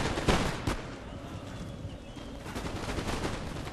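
Musket volleys crackle across an online battle in Empire: Total War, several sharp reports early followed by a steady rumbling battlefield din of distant gunfire, moderately quiet with no speech.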